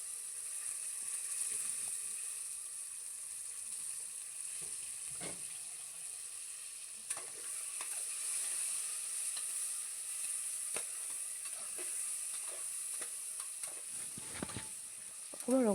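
Pork fries in a pan with panch phoron spice mix and turmeric, giving a soft, steady sizzle throughout, with occasional scraping clicks from stirring.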